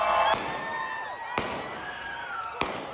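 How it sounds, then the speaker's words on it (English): Three sharp, loud gunshots ring out at irregular intervals over a murmur of demonstration crowd noise and background hum, at a street protest in Salt Lake City, Utah. "Gunfire breaking out during a demonstration in Salt Lake City, Utah."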